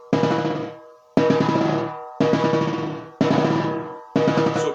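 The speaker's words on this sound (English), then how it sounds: "I'm letting the stick hit the drum head and bounce off of it." A drumstick pressed into a drum head for a Z stroke, producing five separate buzzing rolls about a second apart, each a sharp attack fading into a dense close-up buzz, with no talking.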